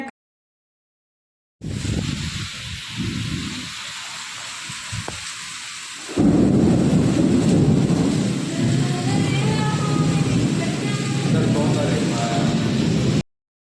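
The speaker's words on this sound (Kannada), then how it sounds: "ಮಳೆ ಬರಕ್ಕೆ ಸ್ಟಾರ್ಟ್ ಆಗೈತಿ ನೋಡಿರಿ" Heavy rain pours down in Bijapur, starting abruptly as a dense hiss that thickens into a louder, steady downpour, with a voice partly audible over it; no distinct thunderclap stands out.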